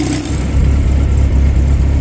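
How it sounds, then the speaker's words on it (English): A 1969 Mustang engine idling steadily after a new ignition install, loud and close with a deep even rumble and a slight mechanical clatter, running alone without voices. "Sounds like a pretty healthy engine so far."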